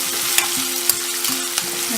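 Chopped onion and garlic sizzle in hot oil as they are stir-fried for potato podimas, a steady close crackle broken by a few sharp scrapes of a spoon against the pan.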